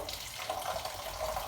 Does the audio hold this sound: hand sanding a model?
no